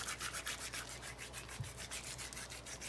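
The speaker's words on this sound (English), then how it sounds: "This time I'm gonna take the cumin seeds, I'm just gonna rub them like this." Cumin seeds rubbed between palms over a pot of Uzbek plov, a close, rhythmic dry rasping in quick repeated strokes with one soft knock partway through, and no talking.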